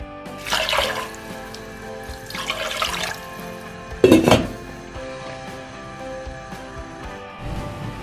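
Water poured in bursts from a container into a pot of marinated meat, in three short splashing pours over a quiet kitchen background, with no talking.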